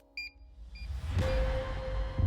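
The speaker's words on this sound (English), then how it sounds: "the horn strobe sounds and flashes, you have a high alarm" A LogiCO2 horn strobe sounds a high alarm: after a few faint electronic beeps, a steady loud tone comes in over a rising, noisy background and holds to the end.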